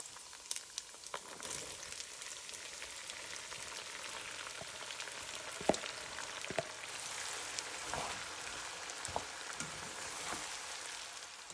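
Onions sizzle in oil in a pot that already holds browned meat. The soft, steady frying hiss runs throughout, with a few faint clinks and stirring sounds and no speech.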